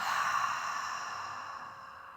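A slow exhale through the mouth during evening yoga breathing, one soft, breathy release of air that gradually fades out over about two seconds.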